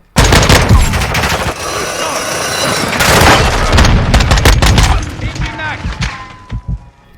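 Heavy bursts of automatic gunfire and booming shots from Call of Duty: Modern Warfare II multiplayer crackle loudly and rapidly, with sharp cracks and echoing thuds trailing off near the end.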